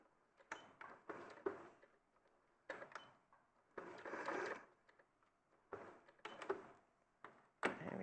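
A sewing machine stitching a seam, short separated bursts of quiet mechanical whirring and clicking with pauses between them, faint and close, without talking.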